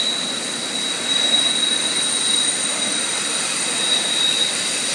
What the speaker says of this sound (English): the train tracks go right behind the home that I live in Pittsburgh, Pennsylvania. And it's quite loud